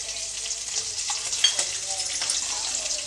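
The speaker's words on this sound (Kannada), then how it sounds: "ಈಗ ನಾನು ಅದಕ್ಕೆ ಹೆಚ್ಚಿಟ್ಕೊಂಡಿರೋಂಥ ಕೊಬ್ಬರಿ ಹಾಕ್ತಾಯಿದ್ದೀನಿ" Grated coconut tossed into a hot pan over a medium gas flame for khara pongal, with a steady close frying sizzle and light stirring scrapes throughout.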